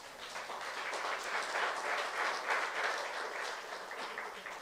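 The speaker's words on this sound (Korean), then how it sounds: "믿는 사람만 박수 치시기 바랍니다" Congregation applause during a Korean youth church sermon, a steady, fairly faint wash of clapping from a roomful of people with no speech over it.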